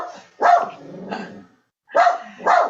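A small female dog barks close by in short bursts: a pair of sharp barks, a brief pause, then two more loud barks, with no talking.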